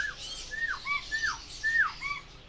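Captive breeding pairs of grey birds in an aviary give repeated loud, close whistled calls and squawks, rising and falling sharply, with no one speaking.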